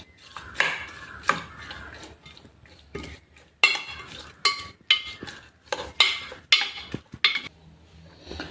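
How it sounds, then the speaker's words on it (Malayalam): A salad with coriander leaves, curry leaves and salt being mixed in a bowl, with irregular metallic clinks and scrapes of a utensil against the dish, close by, in uneven bursts. "എല്ലാം കൂടി ഒന്ന് മിക്സ് ചെയ്തെടുക്കാം."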